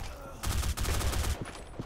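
A weapon fires in the online shooter BlackSquad: a dense, rapid burst of shots lasting about a second, loud and close, followed by a quieter tail of fainter reports.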